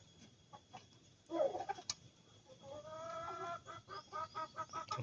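Native chickens cluck near a farm's brooding area, with soft background murmur and then a rising series of rhythmic clucks and short calls toward the end.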